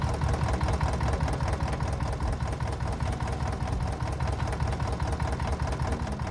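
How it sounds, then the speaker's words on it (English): A forklift engine runs steadily, a loud, continuous low rumble with a rough, knocking idle texture that holds throughout with no talking. "of course a manual forklift has an engine"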